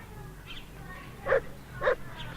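A dog barking at a hedgehog gives two short, sharp barks about half a second apart, moderately close, with a faint yip earlier and quiet background between.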